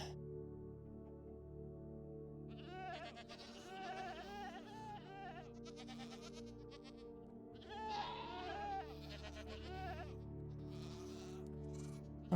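Goats bleat in Minecraft on a snowy mountainside, with two bursts of wavering, nasal bleats over a steady bed of game music and ambience.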